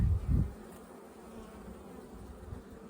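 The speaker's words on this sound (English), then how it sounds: "Lots of bees, a little cranky." Honey bees buzzing at an open hive of somewhat cranky bees, giving a low steady drone, with a brief louder handling thump near the start.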